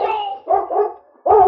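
A dog barks in an old radio drama, a few short harmonic yelps and whines in quick bursts with brief pauses between them, close and fairly loud with no talk over it.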